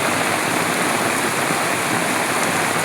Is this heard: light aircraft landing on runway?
no